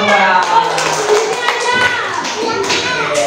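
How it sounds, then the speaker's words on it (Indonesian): Clapping hands in a classroom of children, a brief uneven burst of claps with voices talking over them. "tepuk tangan buat kita semua"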